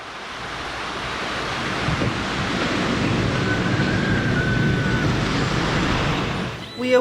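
Ocean waves roll onto the shore at Yelapa in the morning, a steady, loud surf roar swelling and easing, mixed with wind buffeting the microphone.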